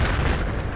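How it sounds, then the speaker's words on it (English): Battlefield 4 gunfire on the Paracel Storm beach map: a dense, rumbling roar of distant shooting and booms filling a short moment, steady and loud with no talk over it. "Someone's shooting at me"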